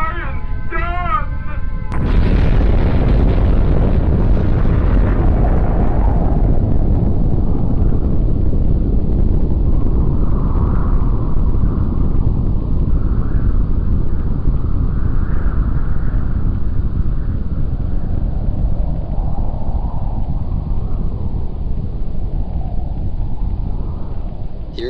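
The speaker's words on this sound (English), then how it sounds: "That is the sound of a nuclear bomb," A nuclear bomb explosion sound effect: a sudden loud blast followed by a long, heavy rumbling roar that stays dense and powerful for over twenty seconds, with wind-like turbulence swirling through it.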